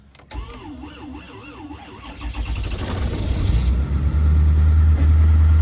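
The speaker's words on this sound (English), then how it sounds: "Let's see if we can get the truck started" A truck engine in a cold Alaska winter cranks with a wavering starter whine, catches after about three seconds and revs up into a loud, steady idle, close by and alone.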